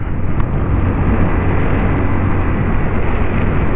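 A car overtakes on a road at night, heard as a steady, loud low rumble of engine and road noise from inside a vehicle, continuous throughout with no clear rise or fall as it passes.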